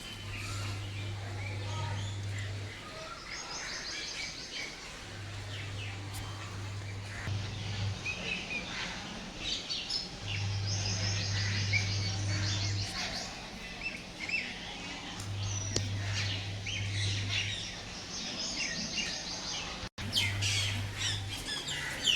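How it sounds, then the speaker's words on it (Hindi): Birds chirp and tweet busily in the morning, a layered outdoor chorus of small calls at moderate distance, with a steady low hum pulsing underneath. "सुबह सुबह चिड़ियों की चहचहाट कितनी सुंदर लगती है।"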